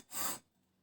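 A saw blade tooth rasps once against a diamond sharpening plate, a short, bright, gritty scrape that is close and loud and then stops.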